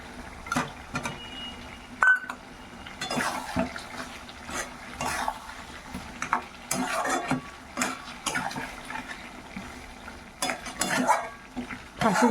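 Potatoes tipped into meat frying in plenty of oil, stirred with repeated scraping strokes over a soft sizzle, in uneven bursts of clatter and hiss, close up.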